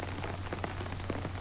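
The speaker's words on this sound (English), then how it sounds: "It's raining." Rain falling steadily on an outdoor golf course near a stream, a soft continuous patter with scattered brighter drops over a low steady hum.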